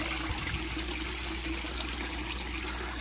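Water flows steadily in a goldfish pond aquaponics system, a continuous close trickling and pouring wash with no talking.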